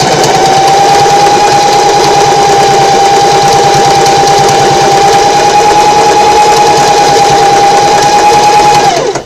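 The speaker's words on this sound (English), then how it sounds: "slow down a little bit, and then you back stitch over it." A sewing machine back stitching over a strap on a quillow runs loud and close, a steady rapid mechanical chatter with a whining hum that continues without a break for about nine seconds.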